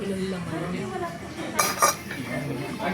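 A brief metallic clink of utensils knocking together, heard under quiet talking in a kitchen.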